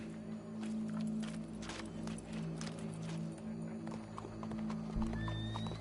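In Red Dead Redemption 2, horse hooves clip-clop steadily over a low ambient hum, and a short whinny rises near the end.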